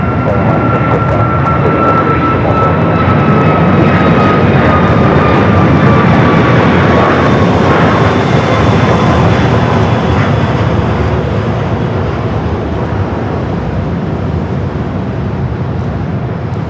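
A fixed-wing airliner lands at Phoenix Sky Harbor Airport, its engines giving a loud, steady broadband roar that holds for the whole stretch with a faint whine gliding downward above it.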